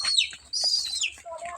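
Chickens at a village home give short, high clucks and calls in a few quick bursts, close by, with no talk over them.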